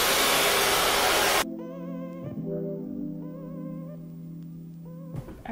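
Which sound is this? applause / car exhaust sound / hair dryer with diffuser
hair dryer with diffuser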